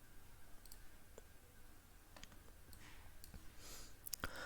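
Faint, sparse computer mouse clicks come through in a quiet room. A few isolated sharp taps are spread out, with a small cluster of clicks toward the end.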